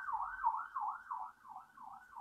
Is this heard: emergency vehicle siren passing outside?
yes